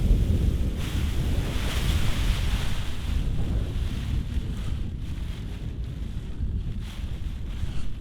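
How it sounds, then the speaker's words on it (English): Strong wind roars continuously against the microphone, rising and falling in gusts, with a broad rushing rumble and no voices. "I'm a little bit nervous about the wind speed, particularly when it gusts."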